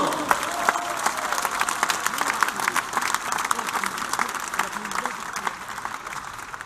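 At the Union Bordeaux-Bègles rugby squad presentation, a crowd applauds president Laurent Marquis with scattered distinct claps and murmuring voices, the clapping thinning out as it goes on.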